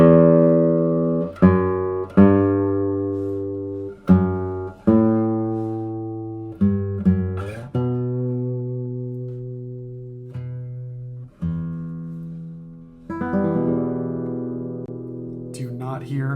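The sixth string of a Reza Safavian Doubletop 2025 classical guitar rings out in a series of clear plucked notes, each decaying slowly, played alone and close up with a final strummed flourish.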